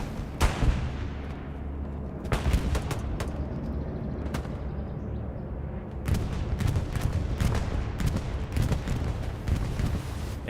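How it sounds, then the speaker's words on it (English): Bombing-run explosions and gunfire in the Hell Let Loose video game at Hurtgen Forest, with repeated heavy booms and sharp cracks over a constant loud rumble of battle, dense and continuous. "Bombing run coming over here on reserve station."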